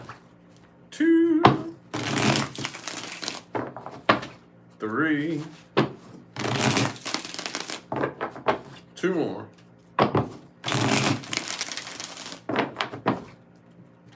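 Tarot cards are shuffled by hand in several separate rounds, each a short crisp flurry of riffling card noise. A voice counts between the rounds, and quieter gaps separate each burst.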